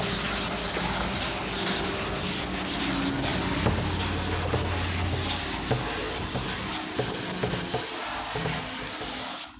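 Steady, close rubbing as writing is wiped off a teaching board during an organic chemistry lesson: a continuous scraping, brushing texture that goes on for nearly ten seconds with faint knocks and no talk.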